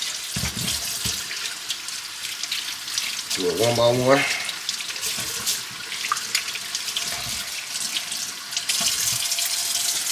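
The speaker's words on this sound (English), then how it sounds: "Start rinsing them off." Seafood is rinsed under a running kitchen tap with a steady splashing flow, briefly interrupted by a squeaky handling sound, while a voice speaks over the water.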